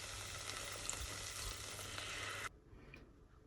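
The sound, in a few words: wine and stock stirred into caramelized onions in pot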